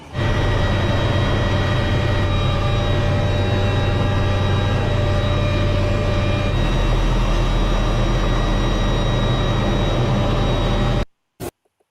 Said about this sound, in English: There's helicopters everywhere.